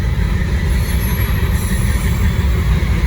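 Norfolk Southern freight train 153 rolls past at moderate speed on the Charlotte District at Gaffney, South Carolina, with a loud, close, continuous low rumble of wheels and cars and a thin metallic squeal partway through.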